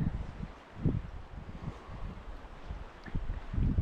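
Strong wind gusts across open sea near a river mouth, buffeting the microphone in uneven low rumbling surges with no talk.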